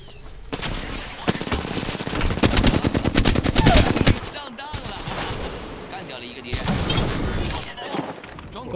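Heavy gunfire in the video game Apex Legends: long rapid automatic bursts and sharp single shots, loud and dense, with a player's voice speaking over the firing.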